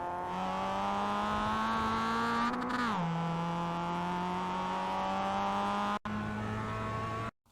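Mazda MX-5 engine in iRacing at Laguna Seca, revving steadily under throttle with a brief dip and rise in pitch near three seconds, then holding a loud, continuous drone until a sudden cut at the end.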